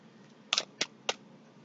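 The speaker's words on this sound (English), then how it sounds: "Just doing a little more shuffling." Oracle cards shuffled by hand in a quiet room, three short crisp riffling snaps in quick succession over a faint low background hum.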